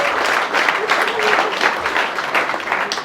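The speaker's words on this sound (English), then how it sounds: "Let's clap again for everyone here." Live audience at a comedy show in Abuja applauding steadily, a dense continuous wash of many hands clapping close by, with a few scattered voices and cheers mixed in.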